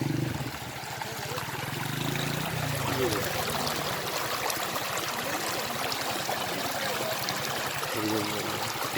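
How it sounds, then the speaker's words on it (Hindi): Water rushes steadily at the Kanhatti waterfall garden in the Soon Valley, Khushab, Punjab, Pakistan, a constant broadband wash lasting the whole stretch with no break. "और इसके साथ ही पानी आ रहा है।"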